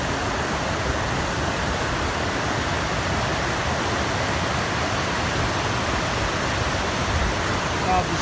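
Twenty Mile Cascades waterfall in the Smoky Mountains produces a steady, dense rushing hiss of falling water, constant and fairly close, with no break across the whole stretch.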